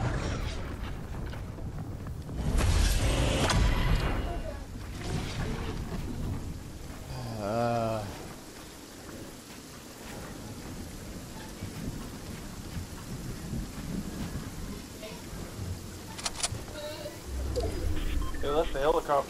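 Rain and thunder of a storm in the video game Fortnite, low rumbling and steady rain noise running throughout with a louder swell near the start and end, while players talk over it.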